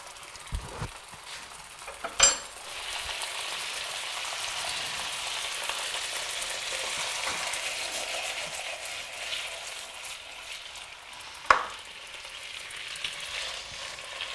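Pieces of food in a marinade fry in a hot pan with a steady, close sizzle that runs throughout, broken by a few sharp spatters or utensil knocks, with no voices.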